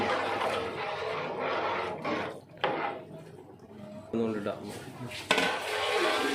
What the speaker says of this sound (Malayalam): ഇത് നന്നായിട്ട് മിക്സ് ചെയ്ത് കൊടുക്കുക.